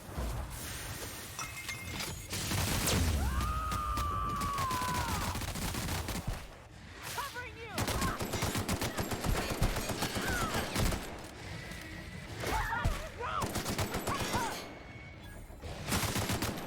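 Gunfire in the video game The Outer Worlds, repeated sharp shots and bursts scattered across a stretch of combat, mixed with crashes and other game sounds, with a short lull partway through.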